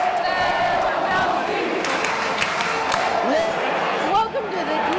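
Fans in the stands at a Barcelona football match cheer and chant in a dense, loud wall of voices, with individual shouts and whistles rising above the steady roar.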